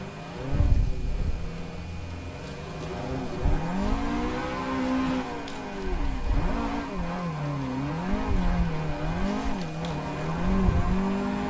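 A car drifts in the racing game Assetto Corsa. Its engine revs in wavering, rising and falling tones, with faint tire noise underneath, and the sound stays continuous and close.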